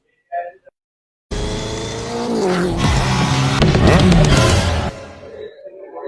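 A Xtreme 250R motorcycle engine starts up abruptly after a brief quiet, running loud and steady with rising revs for several seconds before settling to a lower idle, with a short voice heard just before.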